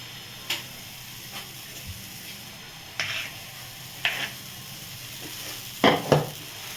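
Dosa batter, a protein-rich version, meets a hot tawa over a very low gas flame, giving a soft, steady sizzle with a few sharp ticks and pops scattered through it, quiet and close.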